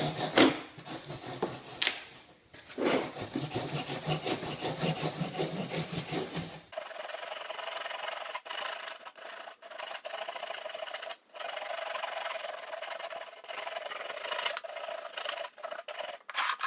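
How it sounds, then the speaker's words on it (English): A SureFoam rasp scrapes rhythmically back and forth across a foam hill on an N scale model railway layout, with rapid close strokes at first, then lighter, softer rasping continuing with brief pauses. "get to work with the SureFoam tool"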